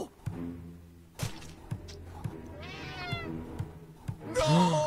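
Several short cat meows from the puzzle game Friday the 13th Killer Puzzle, spaced amid soft thumps and game music tones, with one louder cry near the end.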